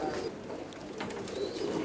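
Racing pigeons coo softly and continuously at close range, a low murmuring with a few faint higher chirps around it and no speech.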